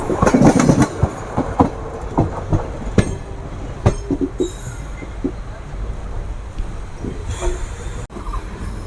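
The Kaviguru Express, Howrah-bound from Azimganj, rolls along the rails with rhythmic clickety-clack wheel beats, sharp clanks and brief squeals over a steady rumble, close and loud, easing later.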